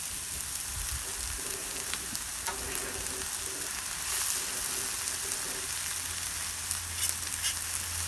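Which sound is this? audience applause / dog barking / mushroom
mushroom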